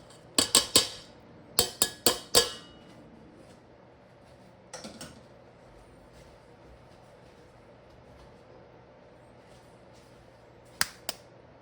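Two eggs are cracked against a bowl and dropped into drained soaked lentils, heard as sharp clustered taps near the start, a softer knock midway and two more cracks at the end, in a quiet kitchen.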